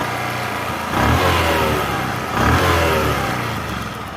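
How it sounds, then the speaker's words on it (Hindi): A rebuilt Bajaj Platina Comfortec BS6 motorcycle engine fires up and settles into a steady, loud idle, with two brief swells of revving over a continuous mechanical drone. "एक सेल्फ में बाइक स्टार्ट हो गई है"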